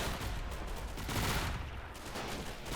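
Distant massed gunfire in the World War II strategy game Men of War: Assault Squad 2 during a fortress siege, a dense continuous crackle of rifle and machine-gun fire, fairly faint, with no talk.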